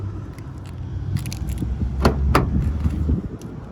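Genuine Mitsubishi remote car keys from a 2016 Mitsubishi ASX jangle in short metallic bursts over a low idling background rumble, two brighter clinks standing out near the middle, with no talking.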